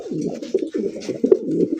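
Pigeons cooing at a farm, a close chorus of low throaty rolling coos repeating in quick overlapping pulses.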